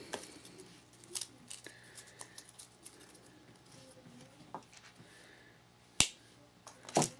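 Scissors trimming card stock for handmade card making, with scattered light snips and small paper handling taps, quiet and close, and two sharper clear cuts near the end.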